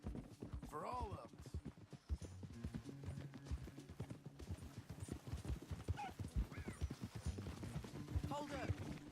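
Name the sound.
horse hooves clip-clopping, from a video game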